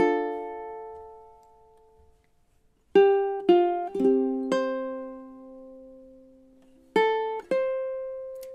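Ukulele picks out measures 5 and 6 of a song: a sustained opening note rings and fades, then a pause, then several plucked notes in a slow rhythmic phrase, clear and alone.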